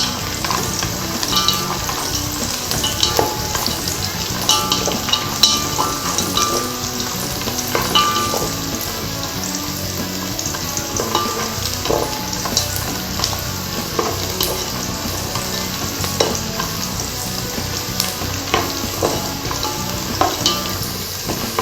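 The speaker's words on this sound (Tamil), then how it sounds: "எடுத்து வச்சுருக்க முந்திரியை நான் இதில் சேர்த்துக்கிறேன்." Cashews fry in oil in a pan for egg biryani while being stirred, giving a continuous close sizzle broken by frequent scraping and clinking stirring strokes over about twenty seconds, without speech.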